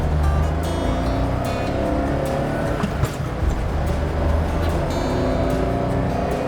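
A 1992 Honda Acty right-hand-drive micro bus is driving with its small engine running steadily, a constant loud drone and road rumble heard from inside the cab, with no speech.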